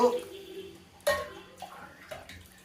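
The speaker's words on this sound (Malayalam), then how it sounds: "ഇതാ ഒരു പാട്ട വെള്ളം ഒഴിച്ചു" Water poured from a can into a cooking pot while meat rice is being made, a short splashing pour with a metallic clatter partway through, heard under a person talking.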